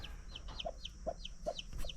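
A hen with newly hatched chicks: high, thin chick peeps repeat rapidly while the hen gives several low, soft clucks at a steady pace, close by and with no talking.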